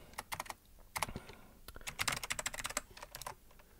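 Rapid bursts of keystrokes on a computer keyboard, typed in quick irregular clusters with brief pauses, close and clear with no talking.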